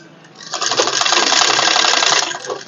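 Sewing machine stitching a suit collar runs in one steady, close, loud burst of roughly two seconds, starting and stopping abruptly with no talk over it.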